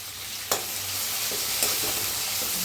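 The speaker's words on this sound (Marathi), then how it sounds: "हिरवी मिरची आणि लसूण पत्ता आणि टमाटो एक कापून घेतलेला आहे छान असं भाजून घेऊया" Green chillies, garlic and chopped tomato roast in a hot pan with a loud, continuous sizzle, broken by two sharp spatula knocks against the pan, no voices.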